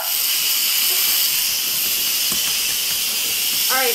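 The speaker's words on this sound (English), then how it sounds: "so now we're releasing the pressure out of the Instant Pot" Steam vents from an Instant Pot pressure cooker during pressure release, a loud, continuous close-up hiss that holds steady throughout.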